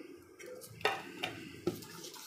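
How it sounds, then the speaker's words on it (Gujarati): Uttapam batter is stirred in a bowl with a spoon, giving three distinct clinks against the side over a soft scraping, quiet and close. "બધું મિક્સ કરી લઈશું."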